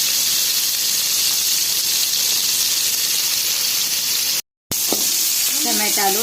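Tamarind fries in a pan with a loud, steady, close sizzle and hiss. A brief dropout breaks it near the end, then faint clatter and a voice follow.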